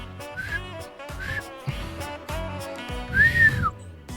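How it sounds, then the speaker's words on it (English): A whistle sounds in the Trails Through Daybreak video game amid bright, melodic game music, rising to one sharp, loud sliding blast near the end, with no speech. "Oh no, not another whistle."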